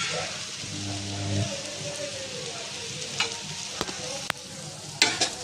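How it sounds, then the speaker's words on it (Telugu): Egg masala with chili powder and chicken masala frying in a pan while being stirred, a steady close sizzle with scraping stirs and a few sharp utensil knocks near the end, no voices. "వేసుకొని బాగా కలుపుకోవాలి"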